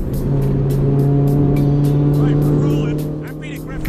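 A race car engine accelerates hard in fourth gear on a circuit, a loud close-up rising drone with rhythmic gear-like pulses, heard from inside the car and easing slightly toward the end.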